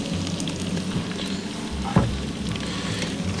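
Frozen food frying in a pan on a homemade wood stove in a winter ice fishing tent, a steady close sizzle and crackle with one brief louder pop midway, no talking.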